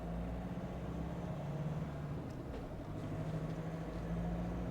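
Steady low cabin hum inside a Mahindra Bolero Neo Plus P10 SUV while driving with the AC turned down, a constant near drone of road and engine noise with no talking.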